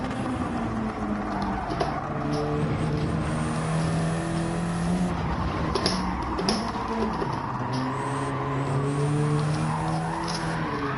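A Subaru BRZ race car in a racing video game drones steadily throughout, its engine note rising and falling through gear changes, with brief tyre squeal and skidding bursts under braking and cornering.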